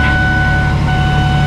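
Chevy Express 4.3L V6 engine turning over and settling into a loud, steady idle right after a new catalytic converter went in, with the former exhaust leak gone.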